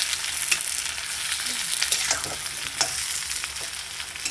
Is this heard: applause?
no